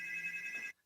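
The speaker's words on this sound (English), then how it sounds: "I didn't silence my phone." A mobile phone rings during a live stream, a short bright electronic ringtone with a steady pulsing tone, fairly faint, that cuts off abruptly after under a second.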